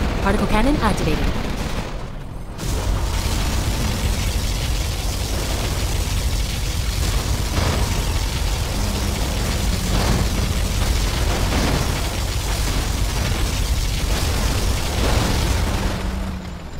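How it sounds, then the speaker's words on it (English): A particle cannon fires and explosions boom during an Air Force General battle in a real-time strategy game, a dense, loud barrage of blasts and gunfire-like bursts running almost without pause. "Particle cannon activated."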